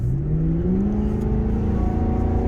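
A Mercury Marauder fitted with a K&N cold air intake revs hard and accelerates, its engine note climbing steadily in pitch as one loud, continuous roar with no talking over it.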